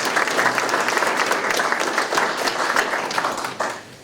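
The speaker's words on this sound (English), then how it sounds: "So let's see if we can give them a round of applause." An audience at a school board meeting applauds students, with loud, dense, sustained clapping from a crowd that fades slightly at the end.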